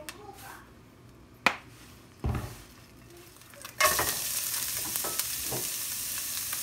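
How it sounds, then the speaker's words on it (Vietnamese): Vegetables for Korean japchae hit a hot pan with a few clanks and taps, then burst into a steady, bright sizzle of stir-frying that continues to the end. "Tiếp theo cũng dùng cái chảo này mình sẽ xào rau."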